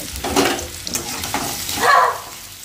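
Sliced onions fry in a pan for biriyani, a close, continuous sizzle broken by stirring scrapes and bursts of louder crackling.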